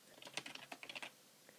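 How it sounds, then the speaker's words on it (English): A short burst of quick keystrokes on a computer keyboard as a search query is entered, faint and close, about a dozen rapid clicks followed by one final tap, no speech. "When I type it into Google"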